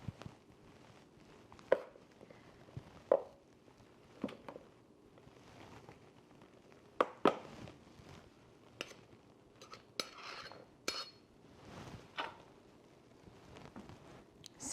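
Flour scooped from a bag or canister and leveled off for baking, heard as scattered soft scrapes, taps and light clinks of a measuring cup and utensil, fairly close and quiet, with no talking.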